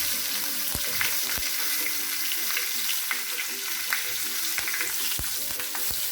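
Hing, turmeric and chili sizzle steadily in hot oil for rasam, a continuous bright frying hiss broken by sharp clicks of a spoon stirring against the pan.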